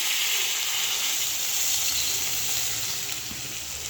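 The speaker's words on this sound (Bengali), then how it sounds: "দিয়ে দিচ্ছি একটু জল মশলাতে" Water poured into spice paste frying in a pan with chilli powder makes a loud, steady, close sizzle and hiss that holds evenly throughout, with no voices.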